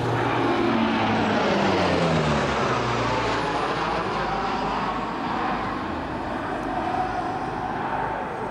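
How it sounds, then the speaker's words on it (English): A Lockheed CP-140 Aurora of 405 Squadron, Canadian Armed Forces, flies past at an airshow, its four-engine propeller drone loud and continuous with shifting tones as it passes overhead. "I give you 405 Squadron, Canadian Armed Forces, and their CP-140 Aurora."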